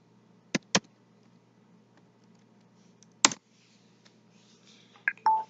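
Computer keyboard keys clicked while typing a web address, a few sharp isolated keystrokes spaced by pauses, close and clear in a quiet room.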